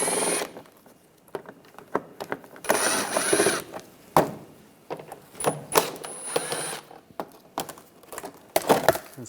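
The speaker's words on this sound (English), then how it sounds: "Using an 8mm socket, take these screws out." An 8mm socket loosens screws on an underbody shield of a 2009–2013 BMW 328i xDrive, with close ratcheting clicks in short bursts and clanks between pauses.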